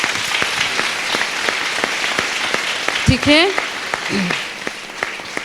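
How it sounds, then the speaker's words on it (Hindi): A church congregation breaks into loud, sustained applause that fills the whole stretch. A voice calls out briefly above the clapping. "परमेश्वर के लिए जोरदार ताली।"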